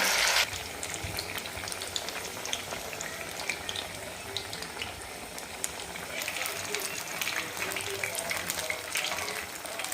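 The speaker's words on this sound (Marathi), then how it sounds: "छान असं गुलाबी कलरवर आपल्याला हे फ्राय करून द्यायच्यात मध्यम गॅसवर" Sabudana vadas deep-frying in hot oil over medium heat give a steady, fairly faint bubbling sizzle that runs evenly throughout with faint crackles, with no talking.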